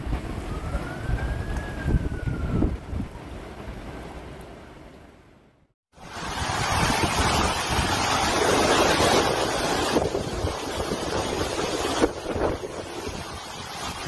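Hurricane Ian's winds and waves pound Key West, Florida: a loud, steady roar of gusting wind and surf that drops out briefly midway, then returns even stronger and rushing.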